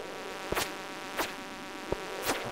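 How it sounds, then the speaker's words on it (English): Bees in the Stardew Valley video game buzz in three short, loud bursts about a second apart, each rising and falling quickly over a low steady background. "Oh no, I hate these little bees, dude."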